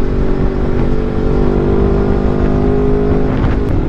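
A Honda CBR250RR motorcycle engine, running smoothly on fresh oil, idles steadily close by, a continuous low, throbbing rumble with no other sounds.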